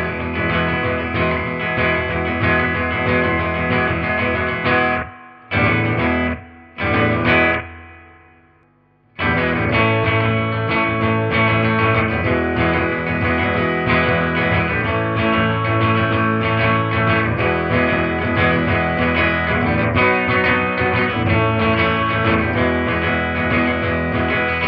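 Distorted electric guitar playing the intro and verse of a song, loud, steady rhythmic chord strumming with reverb, a few brief stops and a short silence early on, then continuous playing.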